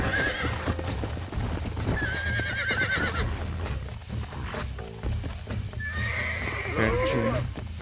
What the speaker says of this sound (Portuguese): Pertinho para fazer o cavalo avançado parar.